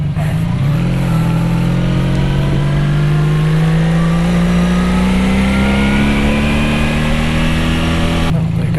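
Honda NC750X DCT twin-cylinder 750 motorcycle engine, a steady loud drone with a slowly rising pitch as it accelerates, heard close up from the rider's position.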